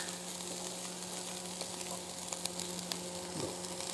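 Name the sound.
chicken and fish sizzling on a barbecue grill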